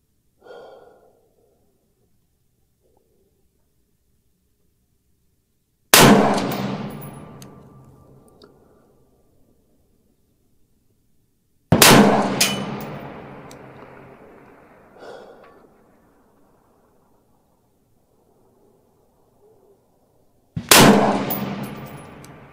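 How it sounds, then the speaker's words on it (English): Three loud rifle shots from a competition rifle firing SIG Elite ammunition, spaced several seconds apart, each a sharp crack with a ringing decay, with quiet breathing in between. "let's pop 5 more rounds of the SIG Elite"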